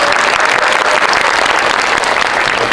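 Sustained applause from a cinema audience at a premiere-day screening talk in a Lotte Cinema hall, a dense, even wash of many hands clapping that stays loud for the whole stretch, with no talking over it.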